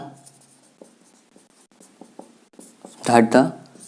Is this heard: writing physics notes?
yes